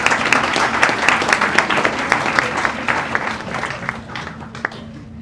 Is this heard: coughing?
no